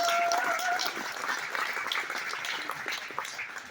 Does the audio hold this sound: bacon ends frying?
no